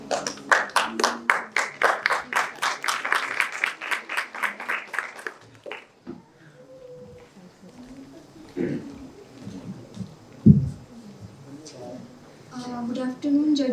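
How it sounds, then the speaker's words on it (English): Audience at a school talk competition claps for the final contestant, a loud rhythmic burst of hand claps that stops abruptly midway, followed by quiet room noise, scattered sounds and a voice beginning to speak near the end. "A huge round of applause for our last contestant for today"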